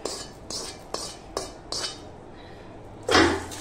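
Puffed rice chivda being stirred in a wok after the tempering goes in, with a series of clinking spoon-on-metal scrapes at a steady rhythm followed by a louder rattling toss near the end.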